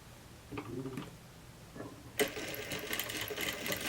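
A domestic sewing machine stitches a summer jumpsuit, running forward and then backstitching, after a few soft handling clicks; the needle's quick, close mechanical chatter starts abruptly and keeps going to the end.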